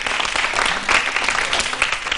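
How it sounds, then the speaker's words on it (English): Audience applause after a quiz round, a dense steady wash of many hands clapping at close range, holding level throughout with no voices breaking through. "Round of applause for them."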